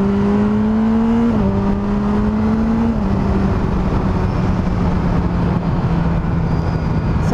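A 2022 BMW S 1000 R motorcycle engine pulls hard on an empty country road, droning loud and close. Its pitch climbs, drops sharply at two gear shifts, then holds a steady roar under heavy wind rush.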